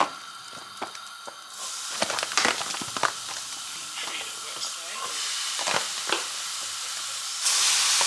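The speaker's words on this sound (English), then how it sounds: "so we're adding minced meat, which has been washed already" Minced meat frying and being stirred in a pan while cooking chili con carne at home, giving a steady sizzle broken by scraping spoon strokes and clatter, with brief moments of faint background voice.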